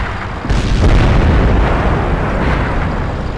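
Artillery fires in a Mines-mode online match: a deep, rumbling boom swells after a short pause and rolls on as a long, loud low-frequency blast that slowly decays, with no talk over it.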